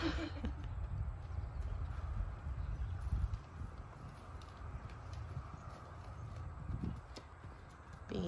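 Horse hooves clip-clopping at a farrier's yard, a steady, moderately close walking rhythm over a low rumble of wind and outdoor noise.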